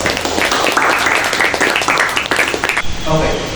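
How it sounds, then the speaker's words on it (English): Students in a Grade 7 classroom give a round of applause, uneven clapping from a small group mixed with voices, tapering off near the end. "Let us give them a round of applause"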